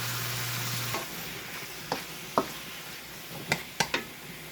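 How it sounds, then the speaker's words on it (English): Soft, steady frying hiss from a pan of marinated meat and vegetables, with a few sharp clinks and taps of a utensil against cookware, close by and without talk. "listen to that sizzle"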